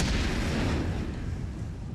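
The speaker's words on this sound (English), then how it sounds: "if I throw a grenade," Grenade explosion in Soldier of Fortune II Unreal Edition, a heavy, close boom with a deep rumbling body that slowly fades over about two seconds, with no talking.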